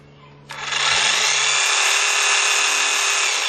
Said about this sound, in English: powered cordless tool run by nothing but the sun